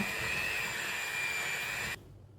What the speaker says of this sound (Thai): ก็จะตีเนยให้ แตกนะคะ แล้วก็ตามด้วยน้ำตาลไอซิ่งแล้วก็ผงวานิลา แล้วจากนั้นก็ตีให้เข้ากันนี่ค่ะ